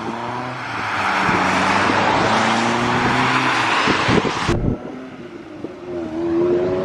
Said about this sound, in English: Lotus Line is leaving now.